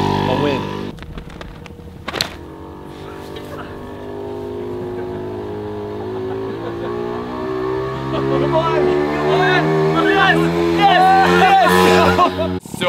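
Two Honda folding scooters, a new Motocompacto and an original Motocompo, race side by side, their motor whine building steadily with a higher electric tone rising toward the end, while a person talks over it.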